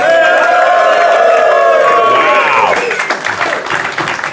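A conference crowd at NDC Oslo applauds and cheers loudly and close, a dense wall of clapping with a sustained whoop or tone at the start that breaks into scattered claps and shouts as it fades.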